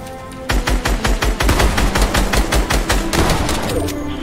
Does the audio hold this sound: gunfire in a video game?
yes